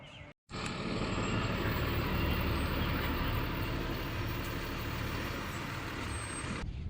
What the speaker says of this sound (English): the tow truck bringing the truck back